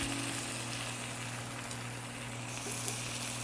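Peaches charring on a hot grill, a steady close sizzle with a low hum underneath, no talking.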